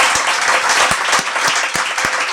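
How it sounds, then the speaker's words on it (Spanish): Audience applause breaks out after a talk, a dense burst of many hands clapping close and loud throughout with no speech on top. "Un aplauso para José Ignacio, joder, es que ha estado fenomenal."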